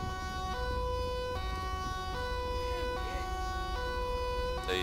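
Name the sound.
ambulance siren in video game GTA 5 LSPDFR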